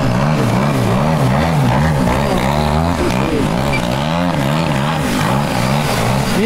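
A gas 100cc large-scale RC airplane engine and propeller roar loudly and continuously nearby, the pitch rising and falling in repeated swells as the plane performs stunts.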